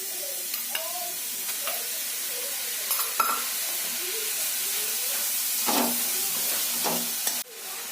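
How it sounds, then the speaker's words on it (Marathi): Grated beetroot stirred and roasted in ghee in a pan for beetroot laddoos, giving a steady soft sizzle with scraping stir strokes throughout and a brief louder burst near the end. "मी आता बीटरूट भाजून घेते व्यवस्थित हलवत राहायचं आहे सारखं"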